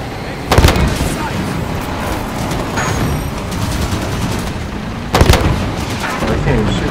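Two loud booming shots in the Halo 5 shooter game, roughly five seconds apart, standing out over a constant rumbling mix of game noise.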